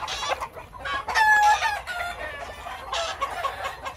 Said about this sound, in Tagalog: ito pa yung iba natin mga manok